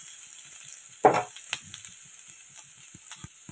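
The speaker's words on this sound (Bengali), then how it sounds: "তো এখন অল্প তেলে গাঠিটাকে ভেজে নিলাম, আর দুটো কাঁচা লঙ্কা একদম চিড়ে দিয়ে দিলাম" Gathi pieces and two slit green chillies fry in a little oil, a soft, low sizzle with one sharp clatter near the start and light ticks and pops afterward.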